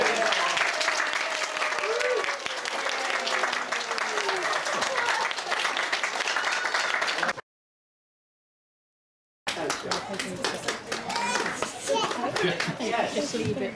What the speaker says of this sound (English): Should we again give Theo Taylor Edward Tannell a round of applause?